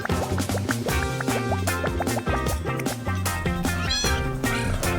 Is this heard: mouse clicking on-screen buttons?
no